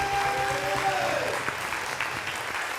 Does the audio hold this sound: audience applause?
yes